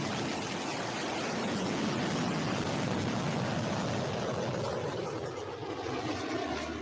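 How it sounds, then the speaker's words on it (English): Blue Origin New Shepard suborbital rocket lifting off the pad, a steady, dense broadband roar sustained at constant loudness, with no voices over it. "New Shepard has cleared the tower and is heading to space"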